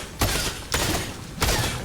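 Fortnite gunfire: three loud, broad bursts spaced roughly half a second to a second apart, each with a brief ringing decay, heard alone without talk.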